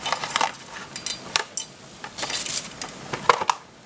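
Dry fettuccine pasta dumped into a pot of boiling water, heard as a quick series of clattering, rattling bursts with short gaps between them, close and fairly quiet.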